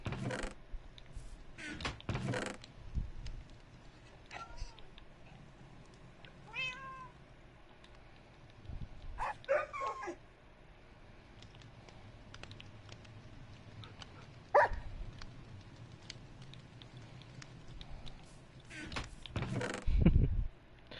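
Tamed dogs in Minecraft Bedrock on PS4 give a few scattered barks and yips, spaced apart over quiet game ambience, with some faint talking in between.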